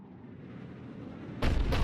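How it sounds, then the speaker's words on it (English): A Cerberus cannon fires in the Mass Effect video game: after a rising low rumble, a loud deep blast booms close, followed by a second heavy report. "Looks like Cerberus got that cannon operational, Commander."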